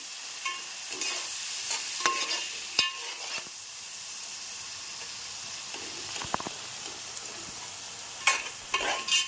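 Onions fry in oil for an Andhra-style egg onion curry, crackling and sizzling steadily up close, with sharp scraping stirs of a spoon against the pan.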